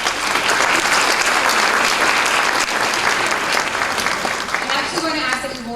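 An audience at a middle school prize day claps steadily for several seconds, dense and even, then thins slightly toward the end.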